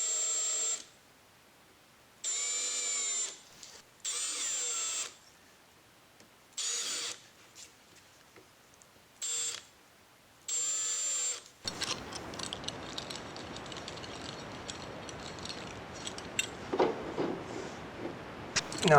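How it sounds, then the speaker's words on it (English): A power drill counterbores screw holes in short whirring bursts of a few seconds each, separated by pauses. The drill is close and fairly loud, followed by quieter scraping and handling noises. "I will countersink the screws, so let me counterbore."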